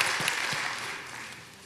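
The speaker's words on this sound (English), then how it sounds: "Let's give the Lord a great big praise clap." Congregation clapping in praise during a church service, a short burst of steady applause that fades slightly toward the end.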